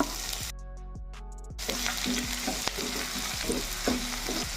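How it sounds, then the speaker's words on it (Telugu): Chopped onions with ginger garlic paste fry in oil for corn palak rice, a close sizzle broken by repeated spoon strokes against the pan after a brief quiet pause near the start. "ఉల్లిపాయ ముక్కలు వేసుకొని వేపుకోవాలి."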